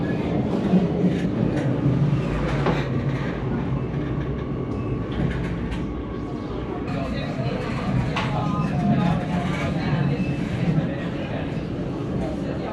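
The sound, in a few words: metro train riding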